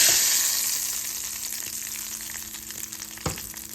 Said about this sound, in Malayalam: അതിലേക്ക് ഈ കടുക് പൊട്ടിച്ചത് നമുക്ക് ഒഴിച്ചു കൊടുക്കാം